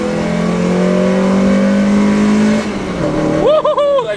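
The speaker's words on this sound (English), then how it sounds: "It makes all the right noises, like you can hear it like coming on cam like higher." A Mazda MX-5 roadster's engine revs hard and climbs in pitch through the gears, loud and close, then drops at a gear change before a few rising whoops.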